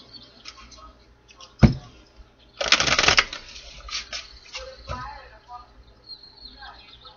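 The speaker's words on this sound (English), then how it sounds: "One more shuffle." A deck of tarot cards is riffled in a quick, crisp flutter lasting about half a second, with a few sharp taps and soft handling noises around it.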